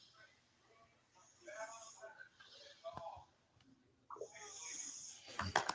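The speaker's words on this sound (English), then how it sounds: "Well, goddamn, these kids are snoring like they got a fucking job." Children snore in quiet, raspy breaths that rise and fade in a loose rhythm, with a voice talking faintly over the snoring.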